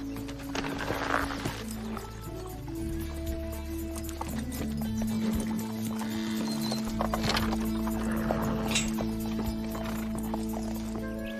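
A large horse walks with steady clip-clopping hooves and an occasional whinny, heard close under soft background music.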